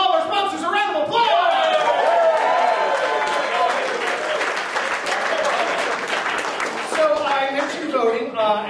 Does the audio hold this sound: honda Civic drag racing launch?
no